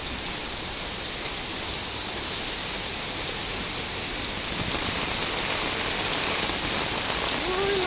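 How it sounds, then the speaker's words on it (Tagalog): Heavy rain pours steadily onto surfaces outdoors, a dense continuous hiss that stays loud and even throughout, growing slightly stronger toward the end, with no voices. "lakas talaga ng ulan. Super lakas talaga."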